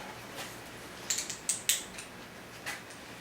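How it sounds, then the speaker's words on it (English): A torque wrench tightens the cylinder head on a Volkswagen 1915 engine, giving a few quick metallic ratchet clicks in short bursts followed by a single later click, close over quiet background. "We're going to go ahead in a crisscross pattern and get this head torqued."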